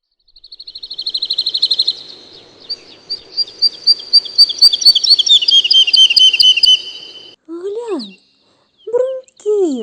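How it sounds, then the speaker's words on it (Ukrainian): Small birds chirp and trill in quick high phrases, a rapid twittering song, followed near the end by a few lower swooping notes. "Цвірінчать пташки."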